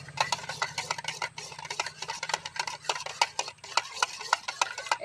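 Sour yogurt being whisked in a bowl for steamed semolina pitha, rapid rhythmic clicking strokes of the utensil against the bowl, close and continuous.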